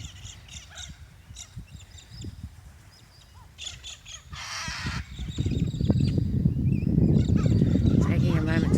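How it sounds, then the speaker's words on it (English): A cockatoo calls from a tree in an Australian urban setting, giving a few harsh, raspy screeches at moderate distance, with a person talking nearby and background noise rising toward the end. "Like seeing cockatoo in a tree."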